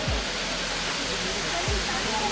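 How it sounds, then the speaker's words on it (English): A waterfall on a resort plantation property in the Coorg mountains, a steady, loud, broadband rush of falling water that fills the scene evenly from start to finish. "ये क्या waterfall है?"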